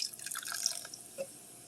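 Cola poured around the rim of a crock pot with barbecue ribs gives a faint, close liquid splash and trickle, with a few light drips and a small bubbling plop near the end.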